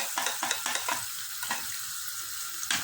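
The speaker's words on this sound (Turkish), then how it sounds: "karıştırıyorum" Food stirred in a pot over the heat, a steady frying hiss under a quick run of spoon scrapes, one more stroke near the end.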